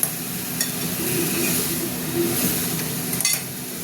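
Water poured into a pan of frying paneer and vegetables, a loud broad hiss and sizzle that swells and settles, with a few utensil clinks near the end.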